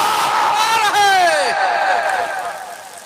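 A crowd at a religious gathering chants the slogan Ya Rasool Allah, with loud drawn-out voiced calls that rise and fall in pitch before tapering off.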